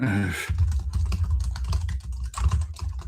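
Rapid clattering keystrokes on a computer keyboard, continuous and close, with a brief burst of another sound at the very start.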